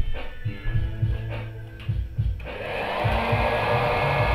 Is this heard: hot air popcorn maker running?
yes